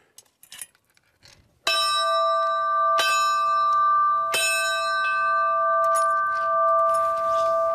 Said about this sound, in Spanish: la campana de Rocía y su sonido non è triste porque repica de alegría.